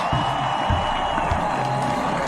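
A NASCAR race crowd roars and cheers after a crash, a dense, steady wash of distant voices filling the grandstands without letup.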